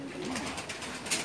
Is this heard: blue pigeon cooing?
yes